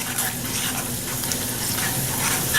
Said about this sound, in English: And let that sizzle just for a minute.